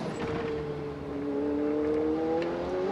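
Ferrari Challenge race car at Le Castellet, an engine note rising steadily in pitch as it pulls through a gear, with a brief dip near the start suggesting a shift, loud and close.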